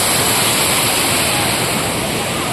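Water pours loudly and steadily down the falls at Papanasam Thalaiyanai, a dense unbroken roar of rushing water filling the whole clip with no pauses.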